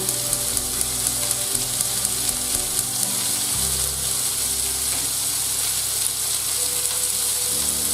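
Spicy tomato sauce for meatballs sizzles steadily in a hot pan, a loud continuous frying hiss with faint stirring scrapes throughout, no voices.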